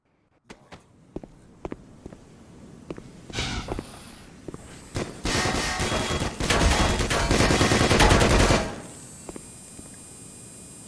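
Automated turret gunfire in the video game Black Mesa, scattered single shots at first, then sustained rapid bursts that build into a loud, dense stream before cutting off, close and alone with no talking.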